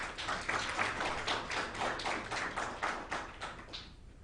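A conference audience gives a round of applause, a steady wash of many hands clapping at moderate distance that tapers off toward the end.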